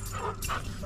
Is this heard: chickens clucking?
no